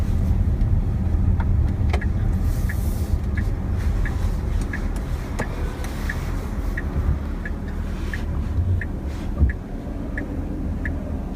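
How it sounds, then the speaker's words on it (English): Climate control fans hiss faintly inside a quiet Tesla Model S P90D electric car on a test drive in Poland, under low road rumble, with a soft regular ticking like a turn signal. "the only thing we hear is the climate control"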